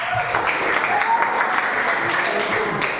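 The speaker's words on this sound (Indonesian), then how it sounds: "Oke, tepuk tangan untuk kita semua." A classroom of students applauds together in one steady burst of clapping that holds evenly across the whole stretch, indoors and fairly close.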